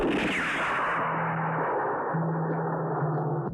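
A single loud gunfire burst in an old Turkish film rolls into a long, echoing rumble that fades out abruptly, with no one talking.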